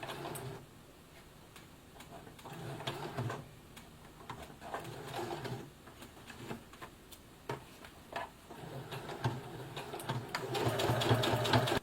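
A Brother FS60X sewing machine stitches a jeans hem. It runs in short rapid bursts of mechanical ticking with brief pauses, and the whirring grows louder and steadier toward the end.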